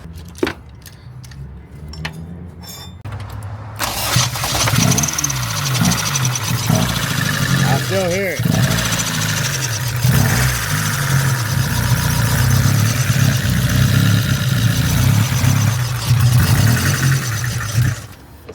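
A car engine idles steadily with its drive belt removed, a faint scratching noise running through the loud, continuous hum. Brief handling clatter comes first, and a voice speaks briefly.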